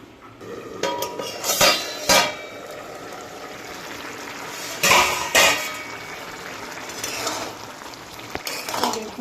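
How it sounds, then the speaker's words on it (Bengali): A lid set onto a cooking pot in a home kitchen while potatoes and vegetables simmer, giving a few sharp metallic clanks and rattles that stand out from a low steady background. "আমি ঢাকা দিয়ে দেবো একটু ঢাকা দিয়ে দিলাম দেখুন"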